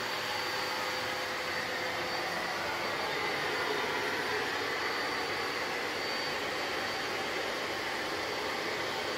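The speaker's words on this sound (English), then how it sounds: "Even at a full blast of the vacuum cleaner" A vacuum cleaner runs at full power during drainage pipe recessing work, a steady, loud, broadband roar that holds constant throughout with no talk.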